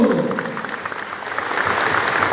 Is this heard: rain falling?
no